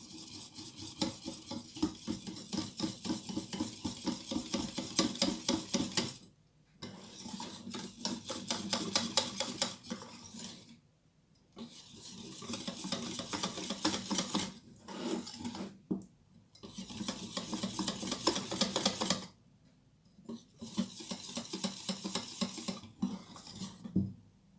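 A utensil scrapes and stirs milk in a metal pot with rhythmic rasping strokes. The stirring comes in several long bursts separated by short pauses.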